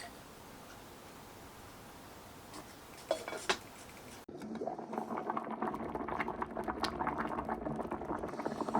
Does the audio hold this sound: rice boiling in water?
yes